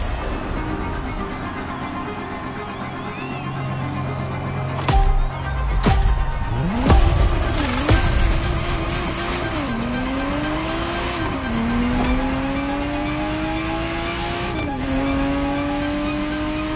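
Ferrari Testarossa engine in The Crew Motorfest racing game, a loud steady drone with rising gear-by-gear revs and sharp tire squeals and skids, heard alone with no talk.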